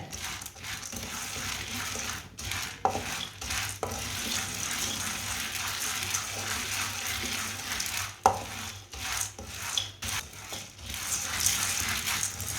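Lentils roast dry in a pan, a continuous soft crackling hiss with repeated scraping stirs and occasional knocks of the spoon against the pan, close by and without speech.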